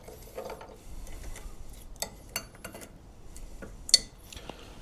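Metal ATV hub parts from a 1998 Polaris Sportsman 500 being set down and stacked in storage, a few sharp clinks and clanks scattered among quieter shuffling, close by, with no talking.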